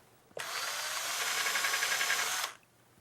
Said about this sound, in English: line it up and drill away